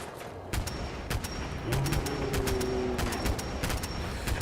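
A 10mm freeze gun in the Fallout 4 video game fires in rapid cracks over a constant background din of game noise. The shots arrive in irregular clusters throughout.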